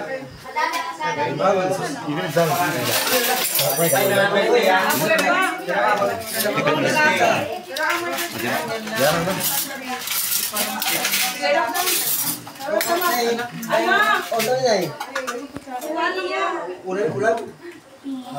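Ceramic plates and cutlery clink and clatter repeatedly in a busy home setting during a birthday meal, with people talking and a voice over and around the dish sounds.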